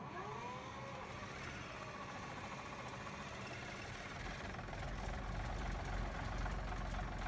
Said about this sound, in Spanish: Vamos a darle arranque a este para que lo escuchen.